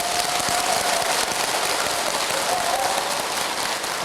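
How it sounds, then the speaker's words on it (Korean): A Buddhist lecture hall audience gives a dense, sustained round of applause, loud and close, a continuous wash of clapping running throughout without a break. "어차피 박수 친 거 편집돼요, 여러분."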